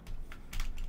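Quick taps on a computer keyboard come close and distinct, a brief burst of uneven keystrokes with no voices over them.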